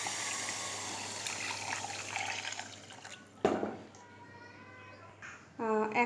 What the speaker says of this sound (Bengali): আমি পরিমাণ মতো জল দিয়ে দিচ্ছি।